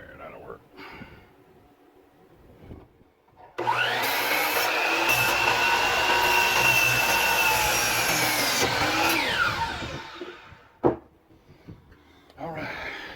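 Power saw cutting 22.5 degree miters in timber for a raised garden bed, a loud steady whine for several seconds as the blade runs through the wood, with quieter handling noises and a sharp knock before and after.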